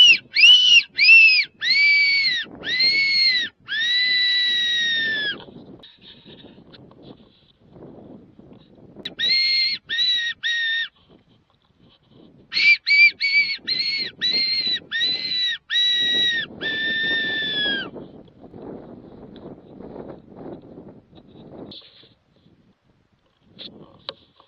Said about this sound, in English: give him a couple of blasts on the T2 fox whistle